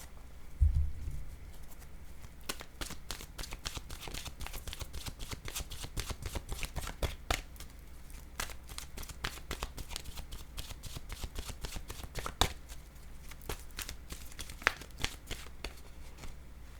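Tarot cards being shuffled by hand, quiet and close, with repeated bursts of soft riffling and papery slaps spread irregularly across a long stretch, no talk.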